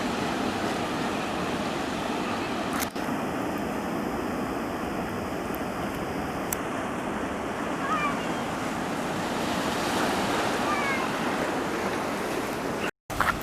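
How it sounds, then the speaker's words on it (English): Steady surf rolls onto a warm beach with light wind, a continuous wash of breaking waves that stays close and even throughout. "So here we are down at the beach."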